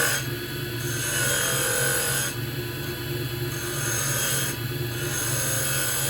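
Wood turning on a lathe with a spindle gouge while making a pen: a steady motor hum runs beneath repeated raspy scraping passes of the gouge against the spinning wood, each lasting a couple of seconds.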